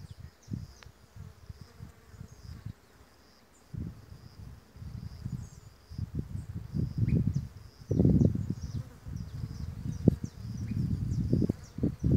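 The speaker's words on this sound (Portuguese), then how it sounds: "Estou ouvindo um som de abelhas polinizando essas flores" Low buzzing of bees pollinating flowers, swelling and fading in irregular bursts, with a faint steady hum and rustle in the background.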